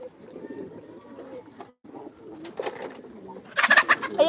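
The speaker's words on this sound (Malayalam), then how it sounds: "ഇത് ക്രോസ് പ്രാവ് അതാ പൗട്ടറെ പൗട്ടറുണ്ട്" Pouter and crossbred pigeons coo in a backyard pigeon loft, low soft calls under quiet background sounds, then a louder burst of bird calls and fluttering near the end.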